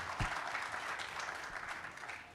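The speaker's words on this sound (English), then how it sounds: "I think it does deserve a round of applause." An audience at a Tesla Takeover 2023 interview session gives a round of applause, a soft, distant patter of many hands that holds steady briefly.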